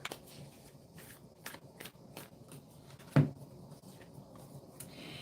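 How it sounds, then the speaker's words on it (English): Moonology oracle cards being shuffled and pulled from the deck, a run of crisp riffling flicks and soft slaps close by, with one sharper knock partway through and no talk. "So let's pull some Moonology cards, please, for this collective."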